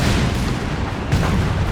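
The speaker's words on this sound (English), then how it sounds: "Dive bombs again are being used" Dive bomb explosions in the Company of Heroes 3 strategy game, during a DAK versus USF match, sound as a loud, dense run of booming blasts and rumbling impacts with no pause.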